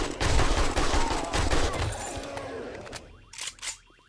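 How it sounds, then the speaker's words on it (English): Rapid bursts of AK assault rifle fire in the 7 Days to Die video game, loud crackling volleys for about three seconds, then a few faint clicks and thuds. "Gotta AK him. AK is the only way."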